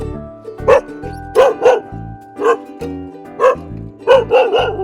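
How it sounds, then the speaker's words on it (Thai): A dog barks loudly and close by in a series of sharp, separate barks, some coming in quick pairs, with short silent gaps between them and no talk. "จะกินเขาแล้วยังเห่าเขาอีก"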